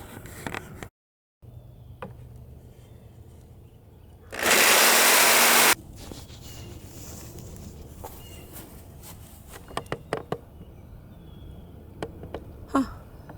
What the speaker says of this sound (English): I'm gonna go get my jigsaw and we're gonna cut this.